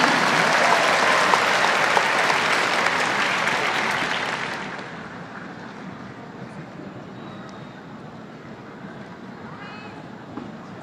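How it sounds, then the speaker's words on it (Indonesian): Audience applause at a national solidarity declaration ceremony, loud and dense for about four seconds, then fading into a softer room murmur with scattered claps. "Mari kita berikan tepuk tangan sekali lagi yang paling meriah."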